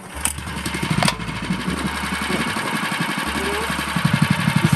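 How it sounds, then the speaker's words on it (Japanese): The small engine of a garden tiller starts up in a taro field and settles into a pulsing, chugging run, close by and growing stronger toward the end. "はい、じゃあエンジンスタートからですね。"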